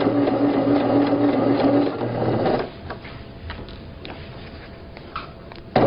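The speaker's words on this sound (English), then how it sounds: "So we're just going to start our stitch," A domestic sewing machine sews a long basting stitch on a fabric tote bag, running loud and steady for a few seconds before stopping, followed by quiet room sound and faint handling.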